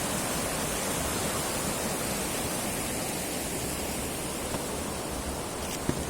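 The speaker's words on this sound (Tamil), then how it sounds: "ஆறு பறிச்சுக்கிட்டு போகுது பாருங்க, எப்படி போகுது பாருங்க." A river swollen with water rushes down from the Kolli Hills near Puliyamcholai in a forest area, a steady, loud, broadband roar of churning current that holds constant throughout with no voices over it.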